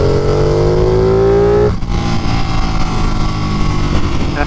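A Ducati 959 Panigale's V-twin motorcycle engine revs hard and loud up close, its pitch climbing steadily for a moment before dropping sharply, then settling into a deep, rumbling idle with a heavy bass note.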